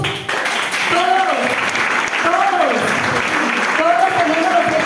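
A charismatic renewal congregation claps for Jesus during a talk on gifts and charisms, steady applause running throughout while a voice speaks over it.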